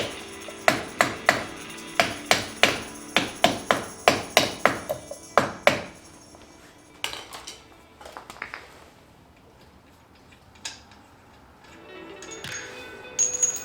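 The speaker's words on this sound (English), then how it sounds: "take a breaker bar or a hammer or something, kind of like hit it in here" A rapid series of sharp metallic hammer strikes, around fifteen evenly spaced blows, driving a wheel spacer onto a BMW M3 F80 hub, followed by quieter clanks and shuffling of parts.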